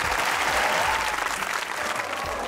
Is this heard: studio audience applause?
yes